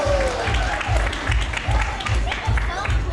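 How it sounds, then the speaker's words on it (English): Audience at a Christmas holiday show in an amusement park claps in a rhythmic, unison beat, with a low thumping pulse and some voices and crowd noise mixed in. "Let's give a big round of applause."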